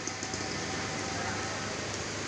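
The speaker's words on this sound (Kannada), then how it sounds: "ಜೋರು ಮಳೆ ನೋಡಿ, ತುಂಬ ಸಖತ್ತಾಗಿ ಹೋಯ್ತೈತೆ ನಿಜಕ್ಕೂ ನೋಡಿ" Heavy rain pours down on Vinoba Road in Mandya district, filling the air with a dense, steady hiss that stays constant and fairly soft from start to finish.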